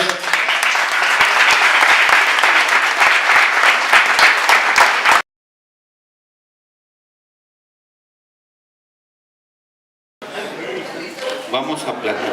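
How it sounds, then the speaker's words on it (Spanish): Audience at a criminology and criminal law congress bursting into loud, dense applause for about five seconds with a little crowd chatter, then dead silence, before the room's murmur and movement return at the end. "¡Aplausos!"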